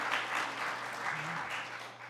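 A crowd claps steadily in a brief burst of applause, dense and even throughout.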